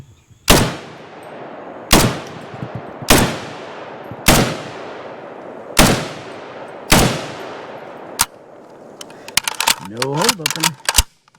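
A SIG SG510/PE57 rifle fires six loud, sharp single shots, spaced about a second apart and each leaving a short echoing tail, followed by metallic rattling and handling of the rifle while a person speaks.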